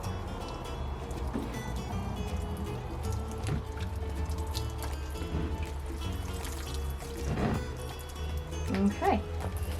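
Water poured by hand over freshly planted radish seeds in soil, a soft steady trickle and splash with dripping, close up, with a voice speaking over it.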